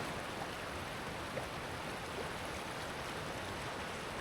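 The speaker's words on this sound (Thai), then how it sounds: "บรรยากาศอยู่ทางชั้นบนของ น้ำตกตาเฉลิศ" Water rushes continuously at the upper level of Ta Chaloet waterfall in Thai forest hills, a steady broadband roar with no pauses, heard alone without speech.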